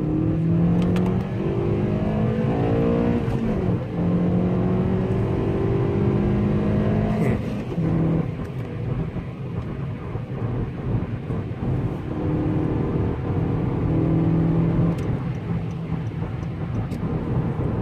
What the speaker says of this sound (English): We're gonna unleash the VTEC of this car